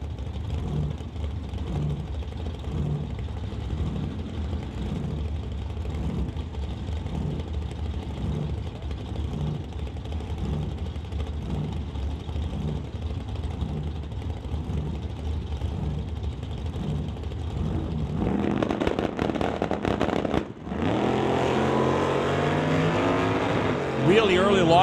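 A 1931 Model A and a Bel Air line up for a drag race, engines idling with a steady throbbing pulse before both cars launch into a loud, sustained roar that carries to the end.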